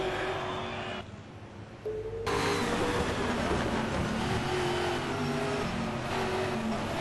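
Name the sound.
touring race cars racing at Pukekohe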